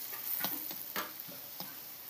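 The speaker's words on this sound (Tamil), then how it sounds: "போட்டுட்டு இதை நல்லா இப்போ வந்து வதக்கி விட்டுக்கணும்." Spicy prawn thokku with a teaspoon of chilli powder is sautéed in a pan, with a faint sizzle beneath several quick scraping spatula strokes spaced irregularly, close and quiet, with no talking.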